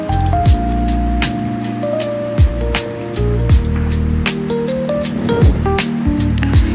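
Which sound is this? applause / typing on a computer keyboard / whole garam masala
whole garam masala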